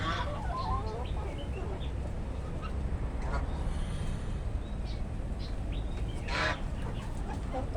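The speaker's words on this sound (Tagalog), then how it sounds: "dito meron tayong mga Rhode Island Red saka pato" Ducks and Rhode Island Red chickens at feeding time give scattered honks, quacks and clucks over a constant outdoor background, fairly faint and mixed together.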